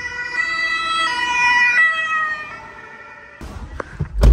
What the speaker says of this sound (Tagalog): May ambulansya. May ambulansya.